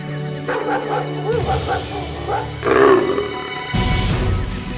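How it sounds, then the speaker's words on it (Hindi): A leopard's call sounds from the brush of a butterfly-survey area, a low rasping roar with barking, and soft speech-like voices around it; the call rises near the middle, then a louder burst closes it. "ये कैसी आवाज? तो लेपर्ड की आवाज है।"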